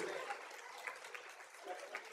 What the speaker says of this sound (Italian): Ci voleva l'applauso adesso, non a me, a tutti noi.